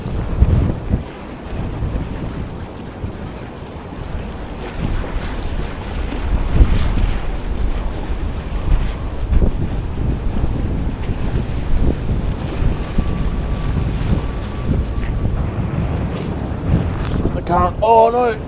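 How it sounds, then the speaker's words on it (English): Strong, steady wind buffets a small fishing boat out on the Swan River in Perth, a loud constant rumble of gusts across the microphone with water slapping beneath and no talk. "That fucking wind, boy."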